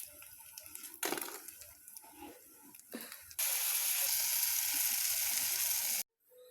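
Water lily flower fritters deep-frying in oil: a few clattering handling sounds, then a loud, steady sizzle that starts partway through, holds for about three seconds and cuts off abruptly.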